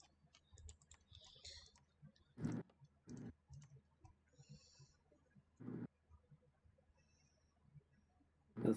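Rapid clicking of a mouse or keyboard keys, faint bursts scattered unevenly with a few louder clicks standing out over quiet background.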